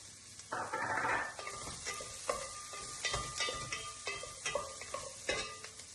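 Garlic and onions sautéing with bay leaves for pork giniling, a steady sizzle broken by repeated scraping stirs and light clinks of a spoon against the pan, close and fairly quiet.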